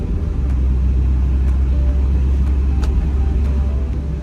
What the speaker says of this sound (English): And this is an 89 Land Cruiser.